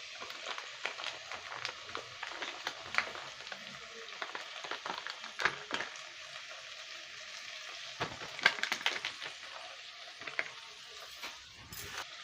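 Ginger-garlic paste sizzles softly in oil with fried onions in a pan for Kolkata-style rui fish curry, a steady low crackle punctuated by occasional scrapes and stirring clinks.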